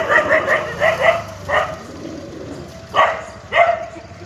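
Dog barking in repeated short bursts, several quick barks then pauses, close and loud with a few yips, no talk over it.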